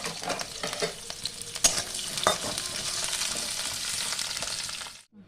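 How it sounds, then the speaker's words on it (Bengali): Carrots and red amaranth stalks frying together in a kadai, with a steady oily sizzle, scraping stirs and occasional sharper clatters before the sound cuts off abruptly. "লাল ডাঁটা একসঙ্গে ভেজে নিলাম।"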